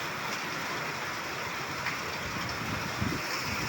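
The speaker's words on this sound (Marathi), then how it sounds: "पावसाची मृग नक्षत्राची शूटिंग घेत आहे" Early monsoon rain falls steadily in an open rural setting near an industrial area, a dense, even hiss that stays constant and moderately faint, with a few slightly louder patters.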